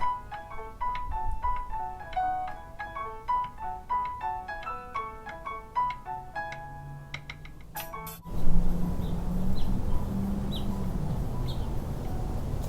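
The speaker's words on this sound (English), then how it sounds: "You can hear the birds chirping out here." On a sunny day in New Mexico, birds chirp outdoors in faint, repeated high tonal notes for about eight seconds before a sudden wash of broad outdoor noise takes over.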